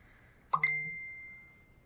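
A single bright electronic phone notification ding rings out and slowly fades, with a soft thump just before it, against quiet room tone.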